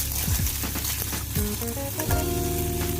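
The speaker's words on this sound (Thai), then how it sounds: "เราใส่หอยลายลงไปเลยนะครับ จากนั้นเราก็ผัดหอยลายให้เข้ากับกระเทียมก่อนนะครับ" Clams stir-fried with garlic in a hot pan produce a loud, dense sizzle and crackle, with scraping stirs and clinks throughout.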